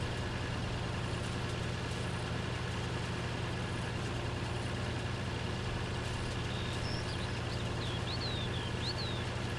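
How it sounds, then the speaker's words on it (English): Steady low drone of a tractor engine in Farming Simulator 19, running at a constant pace while pulling equipment, with faint high chirps briefly over it. "But you can hear this tractor is having no issue whatsoever with maintaining the speed."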